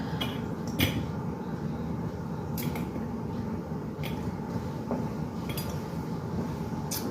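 Glass jars being packed with venison stew ingredients such as potatoes and onion, giving scattered soft squishes and light clinks of food dropping into glass against a steady low room hum, with no talking.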